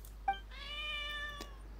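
A cat in the video game Genshin Impact gives one clear, drawn-out meow right up close, preceded by a short chirp, with no talking over it.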